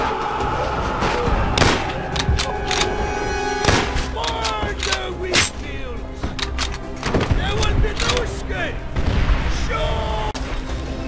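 Call of Duty: World at War campaign combat on Veteran, with repeated sharp rifle shots and bursts of automatic fire, thuds and booms in irregular clusters, mixed with shouting voices and battle noise.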